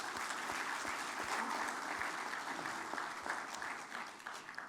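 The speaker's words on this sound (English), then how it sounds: "we all give a round of applause to Collins Aerospace" Audience applause at the opening ceremony of an aviation stakeholders convention, steady dense clapping from a large crowd sustained for several seconds.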